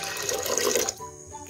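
Water is poured into a pot while kozhukatta dumplings are cooked, a close splashing gush lasting under a second before stopping, leaving a quiet kitchen background.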